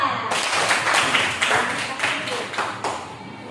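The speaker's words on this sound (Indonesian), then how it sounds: "itu tepuk tangan untuk kelompok 3." Classroom applause for group 3 in a teacher-training lesson, a burst of hand clapping from a small group with uneven, fading claps over a few seconds, close and fairly loud.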